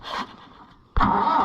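An IH International 584 tractor engine cranking over: a brief faint starter whir, a pause, then a sudden loud burst as the engine catches and keeps churning close by.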